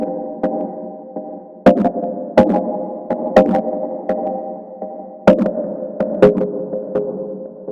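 An orange sample processed with a compressor and echo plays as a tonal, sonar-like pulse, sharp struck hits recurring at an uneven rhythm with ringing sustained tones and echoing tails between them, loud and alone.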